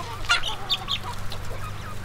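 Hens roam a permaculture garden, giving a few soft clucks and short calls over a steady low background hum.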